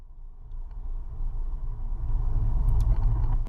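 A car's engine pulls hard in a low gear under full throttle with a manual gearbox, a steady deep rumble that swells louder toward the end, close and continuous with no talk.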